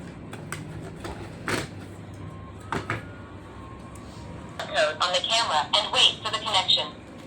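A V380 dual-bulb Wi-Fi camera plays its recorded voice prompts after a reset and reboot. Scattered clicks and knocks come first, then a run of short, clear synthetic announcements near the end.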